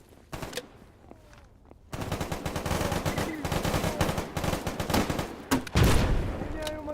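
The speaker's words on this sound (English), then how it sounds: "Oh, grenade launcher time." A grenade launcher and gunfire in the video game STALKER GAMMA, a couple of early shots and then a long dense stretch of rapid blasts and bursts, near and loud, ending with a heavier impact.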